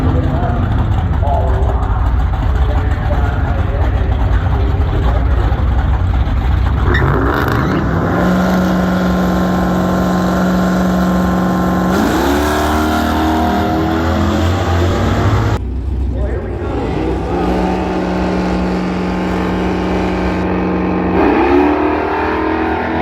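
Engines roar and rev loudly as a truck launches and accelerates hard down a drag strip, with a steady mechanical drone and people talking excitedly over it.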